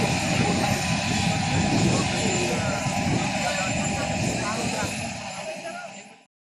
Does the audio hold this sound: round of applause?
no